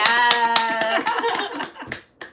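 Claps for a product ambassador during a live stream, a handful of quick, close hand claps under an upbeat tonal voice or music, fading into scattered taps near the end.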